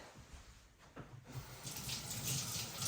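Tap water runs steadily into a sink while an eggplant is rinsed for ratatouille, a broadband splashing hiss that swells louder and brighter in the second half, close by with no talking.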